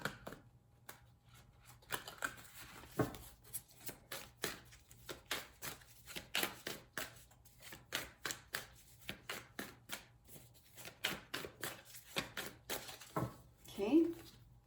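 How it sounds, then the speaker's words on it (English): Soft, quick riffling clicks of tarot cards being shuffled repeat in short bursts, close and fairly quiet. "We'll get a couple more shuffles in here."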